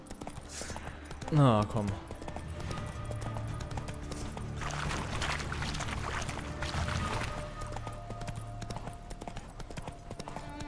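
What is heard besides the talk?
horse hooves while riding, from video game The Witcher 3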